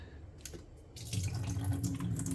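Water draining out of an uncapped Memo water bottle into a sink, a quiet splash starting after a few faint drips, then a steady pouring flow close by.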